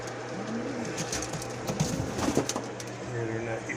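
Racing pigeons in a loft give repeated soft, low coos, fairly close, over a steady background hum, with faint scuffling and movement between the calls.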